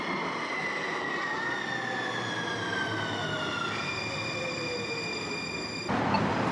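Portland Metro Rail light-rail train rolling past a stop, with steady rumble and long high squealing wheel tones that glide downward, ending in a sharp clank.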